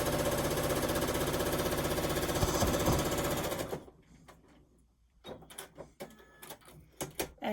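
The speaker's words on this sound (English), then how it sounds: "So I'm starting with one end, regular stitch length," A sewing machine runs steadily at regular stitch length, stitching a quilt row onto batting. Its dense mechanical whir lasts nearly four seconds, then gives way to quieter handling clicks and rustles nearby.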